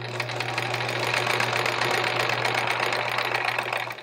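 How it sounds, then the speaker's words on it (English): A sewing machine stitches a paper-pieced quilt block in one steady, close mechanical whir with a low hum, running continuously without talk. "And then I'm just sewing right along that line."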